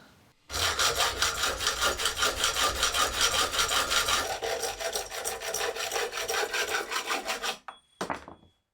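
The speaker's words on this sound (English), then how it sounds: "I can work out how long these rods need to be and get them cut down to size" Close, loud hand sawing of rods cut to length in a workshop, fast steady back-and-forth rasping strokes for several seconds before stopping abruptly, followed by a couple of brief knocks.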